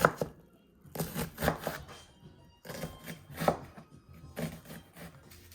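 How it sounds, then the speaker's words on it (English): A knife chops an onion on a cutting board, mincing it finely in quick bursts of rapid, close taps separated by brief pauses, with no talking. "I'm probably going to end up maybe just chopping up about a good tablespoon of very nicely minced onion"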